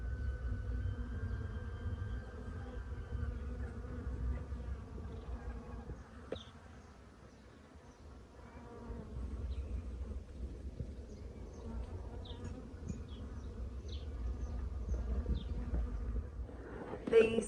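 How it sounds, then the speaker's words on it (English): Bees from a hive busily pollinating in an Algarve kitchen garden, a soft continuous buzzing drone with individual insects passing close, faint throughout with a brief lull midway. "Just a hive of busy bees, busy pollinating it."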